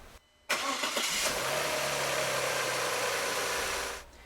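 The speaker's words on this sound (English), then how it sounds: "I'm going to start the engine and allow the oil to flow and fill the oil filter" An Audi Allroad 2.7T engine cranks over and catches after a brief silence, then settles into a steady, loud idle that holds close by with no talking before cutting off near the end.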